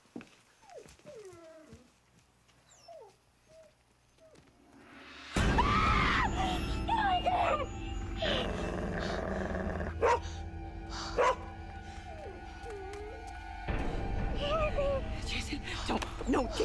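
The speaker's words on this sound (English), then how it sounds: "Whose dog is that?" A small dog barks and yips in a dramatic television scene, with a few sharp barks amid background music and people talking.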